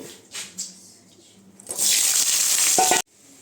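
Onion posto cooks in a pan: light clatter and stirring lead into a loud, close, hissing sizzle that lasts about a second and a half, then cuts off abruptly.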